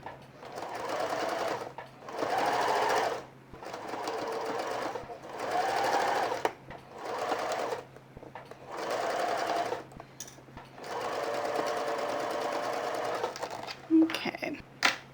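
A sewing machine stitches a ruffle onto tea towels in repeated bursts of steady whirring, each a second or two long with brief pauses between, close and moderately loud, while a person talks quietly between runs.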